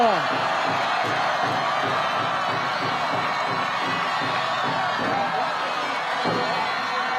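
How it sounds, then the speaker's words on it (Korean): Large outdoor crowd at a People Power Party election rally in Seoul cheering and shouting continuously, a dense roar of many voices with occasional whoops, steady and loud throughout. "여러분, 다시 한번 큰 박수 부탁드립니다"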